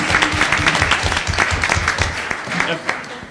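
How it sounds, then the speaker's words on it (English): Clapping from people at a Bell city council meeting honoring a school, irregular and fairly close, with voices talking over the applause. "Let's first give them a round of applause."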